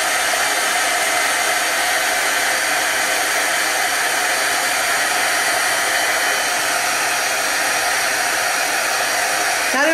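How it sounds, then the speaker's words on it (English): A heat gun blows continuously on a homemade colored craft spray, a loud, close, unbroken whooshing roar that fills the whole stretch without pause. "and then I'm going to hit it with my heat gun"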